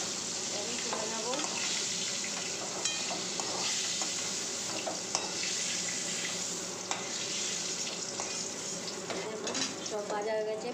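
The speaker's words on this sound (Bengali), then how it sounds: "এই যে যেটা কাটা ছিল পটলটা আর আলুটা, ওটা আমি ভেজে নেব লাল লাল করে।" Cut pointed gourd and potato fry in oil until browned, giving a steady close sizzle throughout with occasional light clicks of stirring against the pan.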